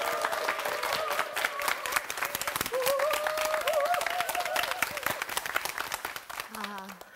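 Church congregation clapping to welcome a deaconess up to give her testimony, a steady crowd of applause with a voice speaking over it and a low tone near the end.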